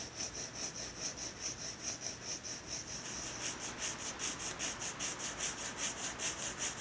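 A graphite pencil shades a cylinder drawing on paper, a soft steady scratching that rubs back and forth in an even rhythm, close and faint, with no voice.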